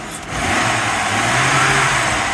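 The engine of a 1999 Acura TL revs up loudly and close, a steady mid-pitched roar that rises and holds, heard during fuel injector testing.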